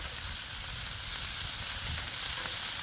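Bacon sizzles on a Blackstone griddle in a dense, even crackle that holds at steady loudness from start to finish, close by, with no voices over it.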